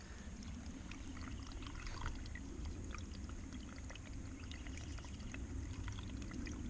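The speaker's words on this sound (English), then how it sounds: "That's called a babbling brook, if you can hear it." A babbling brook at Slaty Creek flows steadily, its continuous trickling and gurgling water faint but constant, with a low distant rumble underneath.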